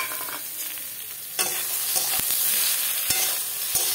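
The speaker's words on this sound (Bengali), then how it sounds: "এবার এটাকে নেড়ে চেড়ে ভেজে নেবো।" Cauliflower stalks and already-fried brinjal are stirred and fried in a wok, giving a steady hot-oil sizzle broken by sharp scraping strokes of the spatula, fairly close with no voices.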